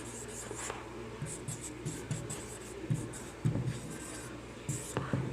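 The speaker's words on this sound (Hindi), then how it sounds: "मैं इसको दूसरे पेन से लिख देता हूं।" A pen scratches across paper in short, quiet strokes and bursts, close up and faint, as a Hindi-speaking teacher writes out economics notes, with no talk over it.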